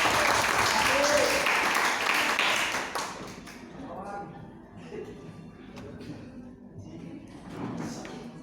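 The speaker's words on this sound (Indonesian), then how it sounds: "tepuk tangan untuk pengajar." Applause for the teacher at a classroom mock criminal trial held by a twelfth-grade science class: dense clapping fills the first few seconds, then fades into softer shuffling, taps and room noise.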